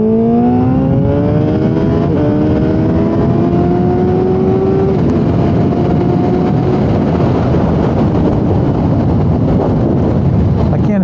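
A 2008 Yamaha FZ1 motorcycle with 1700 miles accelerating on the road, its engine roaring loudly and climbing steadily in pitch as revs rise, heard close from the rider's position over constant wind rush.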